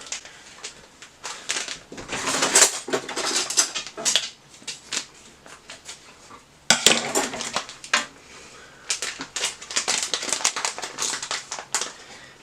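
Grated Parmesan is sprinkled over bowls of French onion soup topped with toast, giving soft, irregular rustling and light clinks of a utensil against bowls, with no talking.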